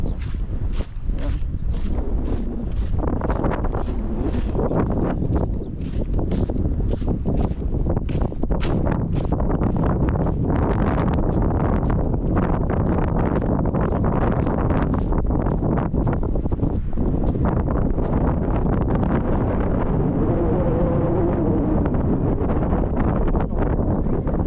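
Strong wind buffets the microphone at a seaside spot in Bahrain, a loud continuous roar with gusty fluctuations and no pauses.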